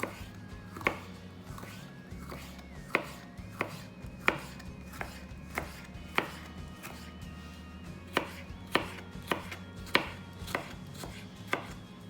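A knife slices mushrooms thin on a cutting board, landing in a dozen or so crisp, irregularly spaced thunks over a low steady background hum.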